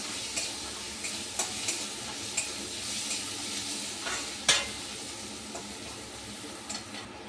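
Cumin, turmeric and coriander powders being stirred into a paneer curry in a pan, a soft steady scraping and light sizzle with occasional sharper clicks of the spoon against the pan, close and continuous.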